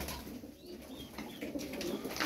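Tumbler pigeons, a flock of play birds, coo softly and steadily in a loft, with scattered wing rustles and bird calls in the background.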